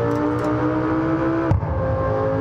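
A Lamborghini in BeamNG.drive holds a loud, steady engine drone while speeding on a highway, then gives a short sharp jolt partway through before the engine sound carries on.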